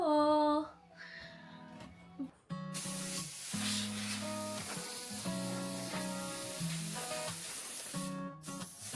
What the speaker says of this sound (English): Now I'm spraying the bare edges with rust protectant